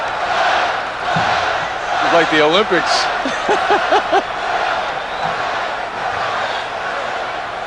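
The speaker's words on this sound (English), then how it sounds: "Let's see what happens as the crowd chants Spud." A packed arena crowd at the 1986 NBA slam dunk contest roars and chants in unison for the small underdog dunker Spud Webb, a loud, sustained wash of voices with rhythmic chanted bursts, under a commentator's voice.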